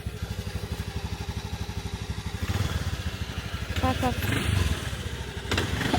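A rented scooter's small engine runs steadily close by, its pulsing putter continuous throughout with a slight rise in intensity partway, while a person speaks briefly over it in a street setting in Bali.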